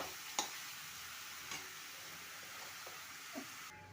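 Ridge gourd pieces stirred into a chana dal curry over fried onions in a pan, a faint steady sizzle broken by a few soft spoon clicks against the pan.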